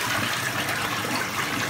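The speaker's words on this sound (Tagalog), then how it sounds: "Flush natin" A hotel bathroom toilet flushes with a steady, loud rush of water gushing through the bowl, continuous and close for the whole moment.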